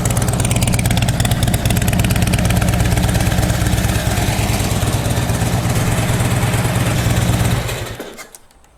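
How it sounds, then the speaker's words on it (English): A 2010 Harley-Davidson Road King with aftermarket Python exhaust and a noisy compensator runs with a loud, close, rapid lumpy rumble, then shuts off and fades into quiet. "This has aftermarket Python exhaust."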